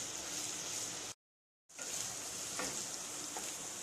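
Chopped onion frying in a pan for a red chilli chicken dish, a continuous bright sizzle that cuts out completely for about half a second, then resumes with a few soft stirring knocks.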